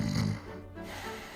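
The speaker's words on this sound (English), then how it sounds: "He's just snoring, waiting for me." A sleeping character in Fire Emblem Warriors: Three Hopes snores once, a soft breathy snort in a quiet game scene, faint and brief.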